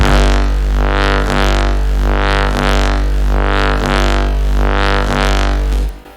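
Dry Reese bass synth with no effects plays one steady, loud, low drone that throbs in a slow regular pulse about once a second from the beating of detuned oscillators, fading out at the end.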